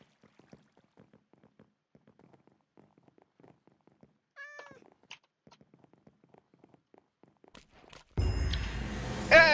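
Cat meowing in a video game: a couple of short, clear meows rise midway through quiet, soft in-game ambience, before a sudden loud burst of game sound at the end.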